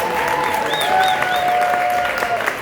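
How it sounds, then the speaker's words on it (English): An audience at an awards gala at the Hard Rock Cafe applauds steadily and loudly for the honorees, with a few cheers and whistles rising above the continuous clapping. "how about a round of applause for all the honorees tonight?"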